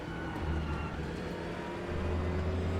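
A Corvette race car engine in the Raceroom racing game holds a steady, loud droning whine at Monza. The pitch shifts slightly as the car runs alongside other cars' engine noise, with no voices.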